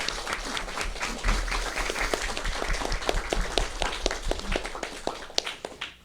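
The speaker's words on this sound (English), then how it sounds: "can we do one more round of applause for our panel here?" A room full of people applauding a panel at an Alaska Native corporate shareholder event, dense steady clapping sustained for about six seconds with scattered sharper claps, no talking.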